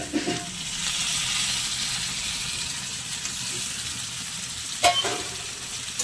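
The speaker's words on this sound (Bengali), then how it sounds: "আলুটা আমার খুব ভালো করে মশলার সঙ্গে মেশানো হয়ে গেছে, এবারে দিয়ে দেবো টমেটো।" Potatoes frying with spices and then tomato sizzle steadily in a pan, with a soft spoon knock near the start and a sharper clatter about two-thirds through, no speech.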